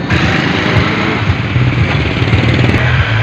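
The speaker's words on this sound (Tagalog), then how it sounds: "Ayan, yung motorsiklo." A motorcycle engine runs close by at a road accident scene where two motorcycles collided, a loud continuous buzzing drone with a slightly uneven rhythm throughout.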